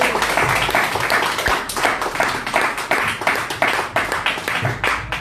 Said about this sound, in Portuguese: as palmas louvam o Senhor